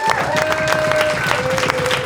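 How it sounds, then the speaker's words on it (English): An audience at a talk on tenants' rights and anti-eviction work bursts into steady, close applause of many hands, with a voice speaking over the clapping. "a round of applause for that right"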